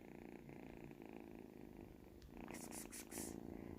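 A small kitten purrs steadily and close by, a soft continuous rumble, with a few brief rustling bursts near the end.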